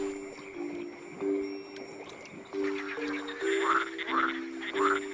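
Green frogs croak in repeated rhythmic bursts at a fertile breeding pond by the Caspian Sea, calling to attract egg-laden females, a loose chorus of overlapping calls growing louder and busier toward the end.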